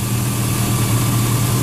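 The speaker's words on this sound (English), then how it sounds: "here's the engine." The engine of a 2000 Chevrolet Silverado 1500 pickup idles steadily with a deep, even rumble, close and loud under an open hood, with no one talking.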